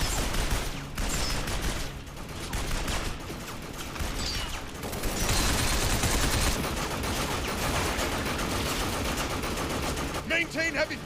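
Sustained heavy gunfire in the third-person shooter Binary Domain, dense rattling bursts of automatic weapons filling the scene almost without pause, loud and close.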